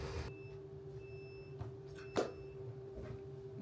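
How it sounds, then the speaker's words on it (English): An embroidery machine signals the end of its stitching job with a few short, faint electronic beeps over a low steady hum in a small home sewing studio. "Those beeps mean that it just finished up."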